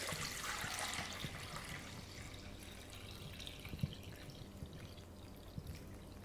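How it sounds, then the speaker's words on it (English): Water is poured off settled white bean paste, giving a faint, soft pour and splash that fades into scattered quiet drips. "pour out the water on top."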